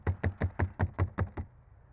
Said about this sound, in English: you knock the snow off.